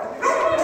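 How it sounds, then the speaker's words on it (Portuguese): A small dog barks near a house door in Francisco Sá, Minas Gerais, giving a short, fairly close yelping bark that rises after a quieter start and holds for under a second, with no talk over it. "o cachorrinho tá ali na porta latindo de novo"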